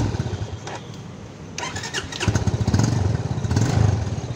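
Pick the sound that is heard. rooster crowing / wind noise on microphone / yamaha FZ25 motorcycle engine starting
yamaha FZ25 motorcycle engine starting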